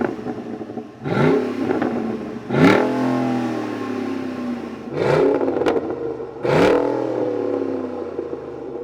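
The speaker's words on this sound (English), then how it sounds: "that sound you guys just heard, of course, was courtesy of Corsa's very popular Extreme Catback system" A 6.2-liter Ford F-150 Raptor with a Corsa Extreme cat-back exhaust revs hard four times, each sharp, loud rise falling back to a deep, rumbling idle, close and with no talk.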